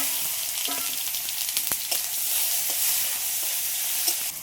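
Cumin, chopped onion and tomato fry in hot oil, giving a steady close hiss with scattered sharp crackles and small pops that rise and fade over a few seconds.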